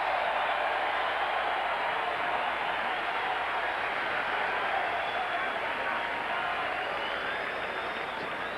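Baseball stadium crowd at a 2003 Marlins vs Phillies game, a dense, steady roar of many voices with a hint of applause, holding at an even level throughout without letting up.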